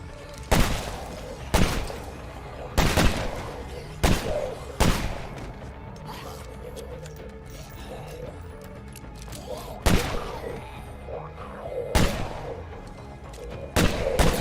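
Heavy-recoil gunshots in the zombie survival game State of Decay 2, single loud booming shots spaced a second or more apart, some in quick pairs, with quieter game ambience between them.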